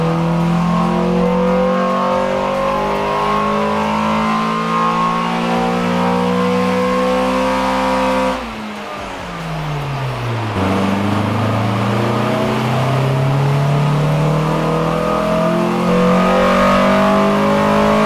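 A Mitsubishi car revs hard on a dyno at a shop, its engine note climbing steadily through long pulls, dropping briefly midway, then rising again, loud and close.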